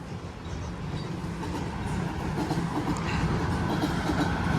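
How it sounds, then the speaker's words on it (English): A Toronto Line 1 subway train rumbles past on a neighbourhood walk at sunset, a steady low roar with faint rhythmic clatter of wheels, heard at a moderate distance with no talk. "Oh, you can hear a subway train going by."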